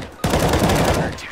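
An M4 rifle fires in the video game CS:GO, a loud sudden burst of rapid automatic gunfire that continues for about a second.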